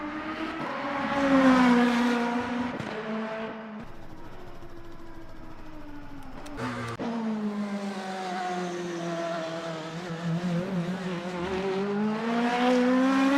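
A Lamborghini race car engine in the sim racing game Le Mans Ultimate drones with strong harmonic tones, dipping and rising in pitch with a brief drop around the middle, heard alone and loud throughout.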